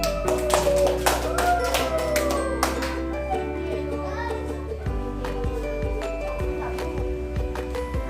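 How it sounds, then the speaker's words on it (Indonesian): Classroom of children clapping their hands in unison, a quick burst of sharp claps over a sustained keyboard-like tone, followed by lighter scattered taps and faint voices. "Kasih tepuk tangan dulu."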